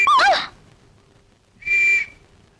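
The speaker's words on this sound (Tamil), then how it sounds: "வயிற்றுல இருந்து விசில் சத்தம் வருது" Comedic whistle blasts from the stomach of a man who has swallowed a whistle, in a Tamil police comedy scene: two shrill, warbling toots about a second apart, each loud and clear against a quiet background.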